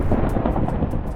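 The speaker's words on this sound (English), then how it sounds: "Why am I hearing thunderstorm noises this far underground?" Thunderstorm rumble in the Minecraft video game, a steady, loud low roar of thunder mixed with rain hiss that fills the whole moment without a break, heard while deep underground.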